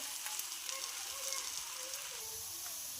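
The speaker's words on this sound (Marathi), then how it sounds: "पराठा टाकल्यानंतर साईडने असं तेल सोडायचं आहे आणि खुसखुशीत पराठा भाजून घ्यायचा आहे" Coriander paratha frying in oil on a pan, a faint steady sizzle and crackle throughout with soft scraping touches, quiet and close, no talking.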